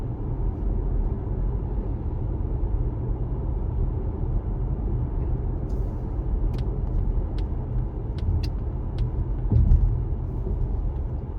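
A heavily loaded big truck labours up a hill on an Australian highway to Toowoomba, a steady deep engine rumble and road roar with faint clicks near the end.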